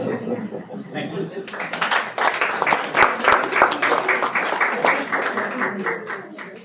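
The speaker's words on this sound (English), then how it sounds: "let's give another round of applause for our wonderful students" Applause and clapping rise from a school board meeting audience for students, swelling after a moment of talk and scattered laughter, then continuing loud and dense with voices mixed in.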